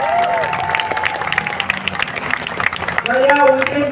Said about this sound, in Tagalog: Pwede bang 10 palakpak yan?